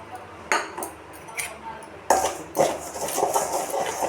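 Semolina dry-roasting in a kadai as a spoon stirs it, giving a few close scraping and clinking strokes against the metal pan over low hiss.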